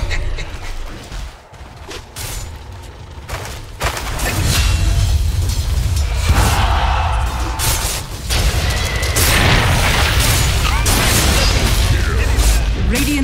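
Dota 2 battle sounds around a middle tower under attack: booming impacts, clanks and bursts of combat effects, loud and irregular, building into a dense continuous clash.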